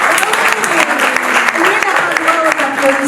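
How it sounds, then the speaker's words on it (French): Audience applause at an award ceremony, steady dense clapping filling the whole stretch with voices and a presenter talking over it. "Vous pouvez applaudir aussi"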